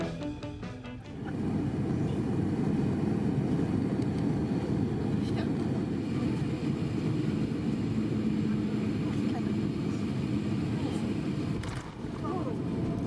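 Cabin of a Virgin Atlantic Airbus A350-1000 airliner descending into London, heard as a steady, loud, low roar of engine and airflow that holds constant and dips briefly near the end, with no talk.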